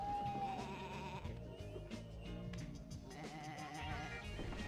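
Sheep bleat in the video game Sheep Raider, short calls heard over a dense, steady bed of layered game music that runs throughout.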